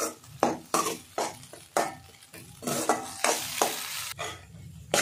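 Ingredients sautéing in a pan are stirred briskly, each scrape and clatter of the spoon arriving in quick, uneven bursts over a low sizzle, close and fairly loud, with no speech.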